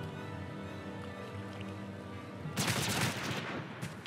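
Rapid bursts of gunfire in Final Fantasy XIV break out suddenly after a quiet stretch, loud, dense crackling shots in quick succession.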